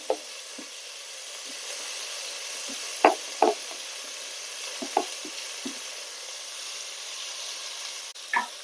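Two chopped onions sizzle steadily in a hot pan with ginger-garlic paste, a continuous frying hiss with occasional soft knocks and stirring clinks, no voices.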